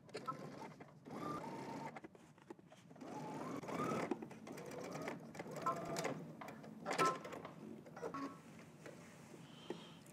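A sewing machine stitches down a shirt hem, running in uneven bursts with brief pauses and clicks over a low, steady mechanical whir, fairly close and moderately loud throughout.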